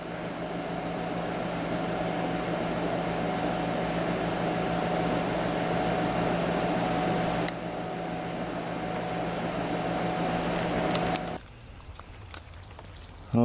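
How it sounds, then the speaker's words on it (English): A household pellet stove runs steadily, its fan giving off a constant hum with a low drone that carries on unchanged and then cuts out abruptly near the end, leaving a quieter room. "Pellet stove. Keeps this house warm."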